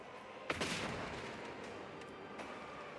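Gunfire in the game Rogue Trader: one sharp, distant-sounding shot with a rolling echo, then a quieter second report about two seconds later, fairly faint overall and with no talk.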